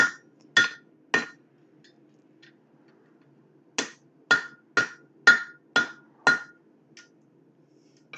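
A hammer strikes metal to untwist it, with sharp, ringing blows: three quick hits, a pause, then a run of about seven evenly spaced strikes, loud and close.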